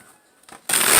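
A deck of tarot cards riffled once, a short soft rustle followed by a loud, dense crackling shuffle close up.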